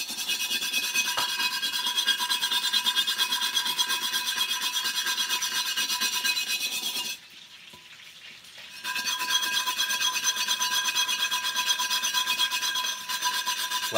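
A steel brush scrubs rust off a cast-iron Dutch oven in a steady, close, harsh rasping scrape that runs continuously, broken by one pause of about two seconds before the scrubbing resumes.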